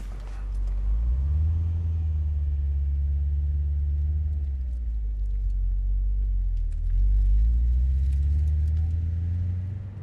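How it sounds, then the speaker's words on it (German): A 1990s Alpina B8 4.6 based on the BMW E36 moves through traffic, its V8 giving a steady, smooth low rumble that rises and falls gently with the throttle, fairly quiet and refined, with no talk over it. "wie wir hier uns im Straßenverkehr bewegen nach 30 Jahren im Alpina B8"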